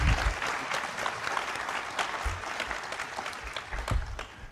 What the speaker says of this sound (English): So give them a round of applause just for the fact that they are working